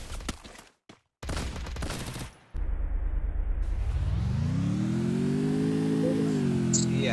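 Motorbike engine in the Free Fire video game, revving and holding a loud, steady drone after bursts of gunfire and game noise at the start.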